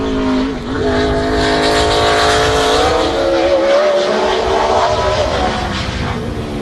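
NASCAR Cup cars at Sonoma Raceway during 2007 qualifying, with a loud, close engine that drones steadily and then rises in pitch as the car accelerates out of turn 11.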